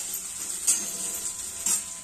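Crushed peanuts sizzle softly in a hot oil tempering for a Marathi karadi bhaji, a steady gentle fry with two quick clinks of a spoon against the pan, and no voices.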